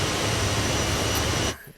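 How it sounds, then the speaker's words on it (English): A loud jet plane engine in Microsoft Flight Simulator, on a Toulouse-Blagnac to Nantes flight, roars as a dense steady whine and rumble before cutting off abruptly near the end. "this one is a very loud plane"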